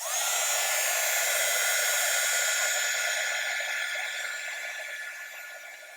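A craft heat tool blows hot air onto embossing powder on card, making a loud, steady hissing whoosh that holds for several seconds and then gradually softens, close up with no talk.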